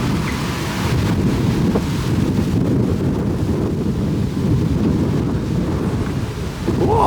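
Strong wind buffets the microphone outdoors while sightseeing in New York City, a steady, loud, rumbling roar that lasts the whole time with no speech.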